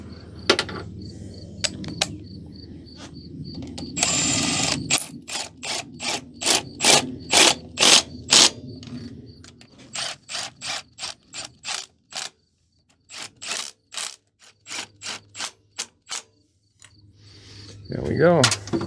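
Impact gun rattling bolts tight on a 1985 Merkur XR4Ti, a series of short sharp hammering bursts in a steady rhythm, close and loud, with brief gaps between each bolt and some quiet work noise around.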